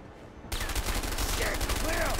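Gunfire in the co-op game A Way Out: after half a second of quieter background, rapid repeated shots start abruptly and continue steadily to the end, with a few brief tonal game effects over them.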